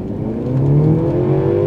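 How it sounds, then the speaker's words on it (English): A 2024 Mercedes-Benz CLE300 Cabriolet accelerates on an open road as its turbo kicks in, the engine note rising steadily in pitch into a loud, sustained whirring drone heard from inside the car. "All right, the turbo kicked in."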